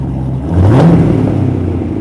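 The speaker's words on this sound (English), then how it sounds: "An LS7 with Borla exhaust." A Corvette's LS7 V8 with a Borla exhaust revs once, swelling into a deep, throaty roar that peaks and settles back to a steady rumble nearby.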